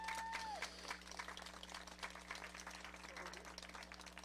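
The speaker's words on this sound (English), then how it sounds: "Please give yourself an applause." Audience applause at a spiritual healing talk given with a Spanish-English interpreter, a dense patter of clapping over a steady low hum, with a brief tonal voice sound at the start.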